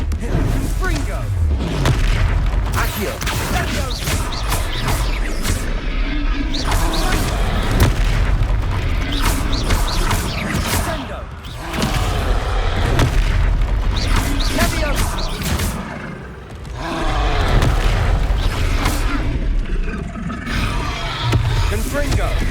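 Repeated booming Confringo explosion spells in Hogwarts Legacy battle, heavy thuds and blasts mixed with combat noise and game music, with voices shouting and talking throughout.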